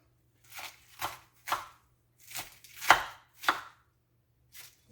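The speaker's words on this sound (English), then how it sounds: "I probably should have got my bigger knife and it'd be easier to cut." Knife chopping salad vegetables on a board, about eight distinct sharp cuts in an uneven rhythm, close and fairly loud, with no talking.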